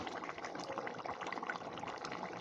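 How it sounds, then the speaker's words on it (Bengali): Catla fish head and potato curry boiling in a pot, a continuous close bubbling and simmering with no talk over it. "দেখতে পাচ্ছ সঙ্গে ফুটছে?"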